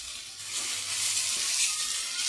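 Pumpkin pieces frying in ghee for a sweet pumpkin kheer, giving a steady, close broadband sizzle that swells slightly midway and carries on evenly with no talk.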